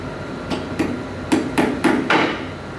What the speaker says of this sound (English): Hammer the nail-in glides about 1 inch from the end of each board.